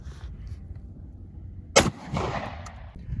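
A single sharp, loud gunshot from an AR-15 rifle chambered in 7.62x39 with a 16-inch barrel, fired at body armor outdoors, followed by a brief rumbling echo.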